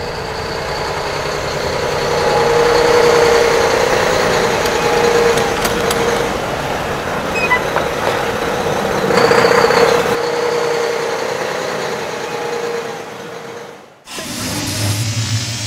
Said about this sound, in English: The tow truck's on its way